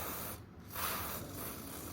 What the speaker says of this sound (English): So we use this spray here from Worth, HSS grease.